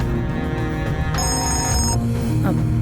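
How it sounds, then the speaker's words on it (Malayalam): A telephone ringing indoors in a Malayalam TV drama, a loud bright electronic ring in one burst over background music and room tone. "ദേ ഫോൺ അടിക്കുന്നു ശാരദാമ്മേ."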